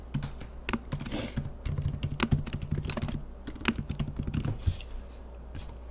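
Quick, uneven keystrokes tapping on a computer keyboard during a coding session, close and fairly soft, coming in bursts with short pauses and no talking.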